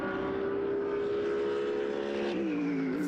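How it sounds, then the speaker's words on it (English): A Mercedes-AMG GT3 race car at the Valencia circuit, its engine a sustained high-revving whine that holds steady through the final corner, then shifts down and climbs again, with race commentary over it. "Through the final corner now comes the AMG GT3."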